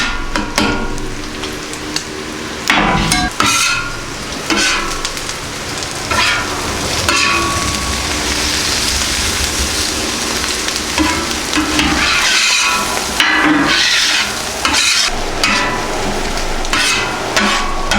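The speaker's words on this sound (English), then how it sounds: "combine the eggs now with my potatoes" Eggs and potatoes sizzling on a Camp Chef FTG600 flat top griddle outdoors in cold weather, with steady close frying hiss and repeated metal spatula scrapes and taps.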